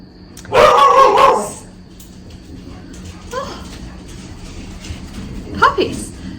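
Puppies barking at neighbours: a loud burst of yapping barks up close, then fainter, scattered yips and barks, with quiet talk in the background.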